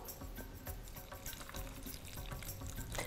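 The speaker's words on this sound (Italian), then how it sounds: "l'acqua." Water poured into hummus in a blender with chickpeas, lemon juice and salt: a steady, splashy, bubbling trickle that runs close and fairly loud for about three seconds, with no talking.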